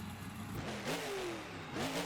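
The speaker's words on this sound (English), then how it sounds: "Revving up the engine for the fans." At a freestyle event in Paxton, Illinois, a monster truck engine revs loud and close in two rising surges over a continuous rumbling drone.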